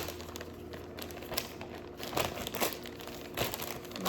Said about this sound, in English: And then I've got my gallon Ziploc bag.